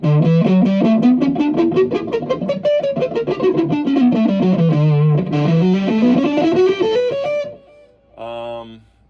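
A palm-muted electric guitar with heavy distortion chugs through a rising and falling scale in tight, clipped, percussive notes, loud and close, and a short burst of speech comes right at the end.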